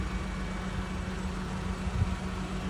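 A 2004 Honda Civic engine runs at a steady idle, a low, even hum and rumble with no revving, heard alone.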